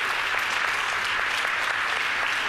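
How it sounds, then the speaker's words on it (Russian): Live outdoor music concert audience gives sustained, even applause, a continuous wash of clapping from a large crowd with no talk over it. "Аплодисменты, друзья."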